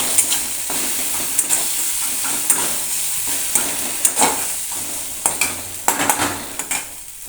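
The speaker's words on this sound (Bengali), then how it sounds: "অল্প কাশ্মীরি লঙ্কার গুঁড়ো দেব নাড়ব এবার" Kashmiri chili powder and turmeric are stirred into spices frying in a pan, a steady close sizzle broken by repeated sharp scrapes and taps of a spoon against the metal.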